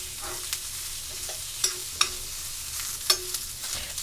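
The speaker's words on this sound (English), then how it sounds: "while that sizzles and cooks up beautifully" Shrimp dish ingredients sizzle in olive oil in a pan, a steady close frying hiss with a few sharp clicks and stirring scrapes over about four seconds.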